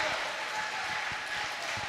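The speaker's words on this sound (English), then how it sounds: "a big round of applause for Trainwreck, co-captain of the Freak Show" A crowd at a junior roller derby exhibition bout applauds steadily, a dense even wash of clapping that holds for the whole stretch with faint voices mixed in.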